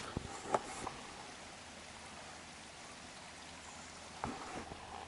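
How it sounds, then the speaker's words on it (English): A forest creek flows in a soft, steady trickle at low volume, with a couple of brief louder splashes or clicks near the start and end. "hearing the sound of the creek"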